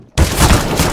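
A grenade detonates in Counter-Strike: Global Offensive, a sudden loud blast that bursts out of near silence and roars on with a dense, rumbling tail.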